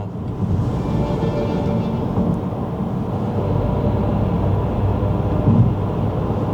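Synthetic 'Granular Fuzz' cabin sound effect inside a Mercedes CLA 250+ electric car, a steady low droning hum with a soft fuzzy texture and faint higher whirring, continuous and fairly loud.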